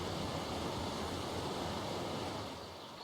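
Steady rushing roar of waterfalls in the video game ARK, at a riverside redwoods build on the Valguero map, a constant broadband wash that eases slightly at the end with no voices.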